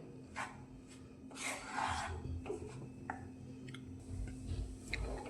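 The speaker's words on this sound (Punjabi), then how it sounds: "ਲਗਾਤਾਰ ਹਿਲਾਉਂਦੇ ਹੋਏ ਆਪਾਂ ਆਟੇ ਨੂੰ ਭੁੰਨਣਾ ਹੈ" Wheat flour being stirred and roasted in a pan over a low gas flame, the spoon scraping and rubbing in soft irregular strokes with a few light taps, quiet and close with no talking.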